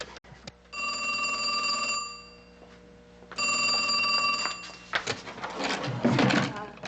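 Telephone bell ringing at a crystal shop, two loud ringing bursts separated by a pause, followed by handling noise as the receiver is picked up.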